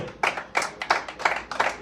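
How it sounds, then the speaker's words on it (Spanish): A church congregation claps in unison with five or six sharp, regular beats, loud and close, with no talking. "Dele palmas al Señor"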